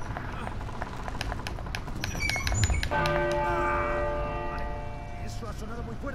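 Bells ring in the video game Uncharted 4, a cluster of sustained, overlapping metallic tones entering midway and lingering over steady in-game background noise.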